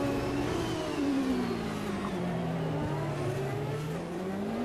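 A 2.66-litre V8 turbo race car of nearly 900 horsepower, simulated in Automobilista 2, holds a loud, continuous engine note that sags and then climbs again as the revs shift.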